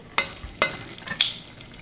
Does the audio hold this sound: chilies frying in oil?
yes